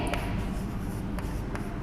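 Chalk scratching on a classroom blackboard during a fourth-grade maths lesson, a steady close scraping texture with a few brief taps, heard alone without talk.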